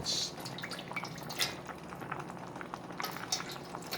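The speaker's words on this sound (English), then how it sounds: "So I just want to put a little water in there." Water poured into a hot roasting pan while cooking lamb shanks, sizzling and bubbling steadily with small drips and splashes, close and moderately loud with no talk.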